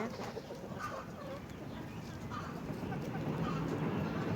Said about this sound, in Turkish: Şöyle şu horoz.